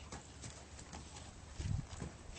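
Hooves of a horse named Sultan stepping slowly backward one step at a time, soft irregular clops close by with a somewhat heavier cluster of steps near the end, no talking.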